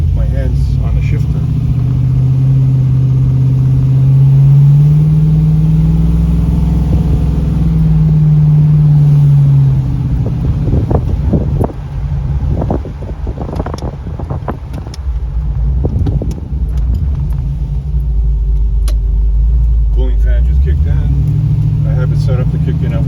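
A 1981 Trans Am with a swapped LS3 416 V8 cruises along a road in daytime, a deep steady engine drone with wind rush and a few gear changes, close and loud, while someone talks over it.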